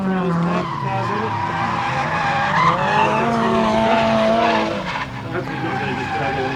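A drift car slides with a sustained, wavering tire squeal over strained engine noise for several seconds, loud and close, before easing off at the end.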